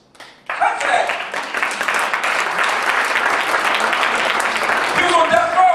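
A conference audience breaks into applause after a brief quiet, a dense, loud, sustained wash of clapping that holds steady for several seconds.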